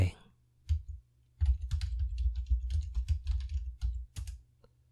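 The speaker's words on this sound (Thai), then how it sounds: "พิมพ์ชื่อหมวดหมู่เข้าไป" Typing on a computer keyboard while building an Xmind course outline, a close run of quick irregular key clicks in two bursts with short pauses between them, no talking.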